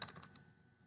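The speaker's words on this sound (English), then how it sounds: "I'm going to type here." Keystrokes on a computer keyboard, a quick burst of about five clicks in the first half second, then quiet room tone.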